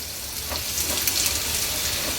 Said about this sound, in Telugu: ఇప్పుడు మనకి అవి వేగిపోతున్నాయి కదా.